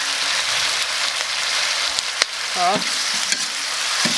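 Pig ears stir-fried in a hot wok with cooking wine, soy sauce and salt give a loud, steady sizzle with scraping stirs throughout, and a voice briefly says a word partway through.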